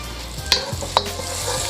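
Oil sizzling steadily in a hot pan for chicken fried rice, a continuous close hiss with a couple of sharp scrapes and clicks from stirring.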